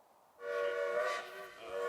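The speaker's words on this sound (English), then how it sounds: "When the Sumter Stump Dodger blows its whistle, one thing is certain." Sumter Stump Dodger train whistle on an Oregon heritage railway, a sustained harmonic blast that starts after a brief quiet, holds, dips slightly and swells again.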